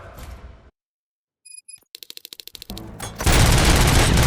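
Rapid gunfire bursts from the video game RoboCop: Rogue City, a quick string of sharp shots followed by a loud sustained roar of noise.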